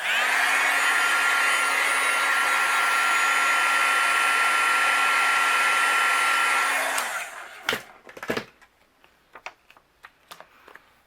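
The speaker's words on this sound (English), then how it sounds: "then I'll use my heat gun and we'll melt it." A heat gun blows a steady, loud whooshing hum for about seven seconds while melting white embossing powder on a Halloween greeting card, then cuts off, leaving scattered light taps and handling noises.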